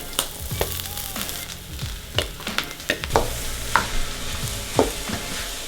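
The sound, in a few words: mushrooms sautéing in oil in a pan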